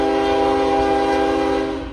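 A Norfolk Southern freight train, NS 179, roars past close by with its horn blaring steadily throughout, the sustained blast fading slightly at the end.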